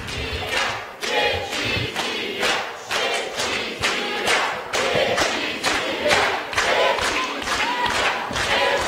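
An audience at a public debate between Ion Ceban and Andrei Năstase claps in a steady, fairly distant wave of applause with rhythmic thuds, sustained throughout with no clear speech on top.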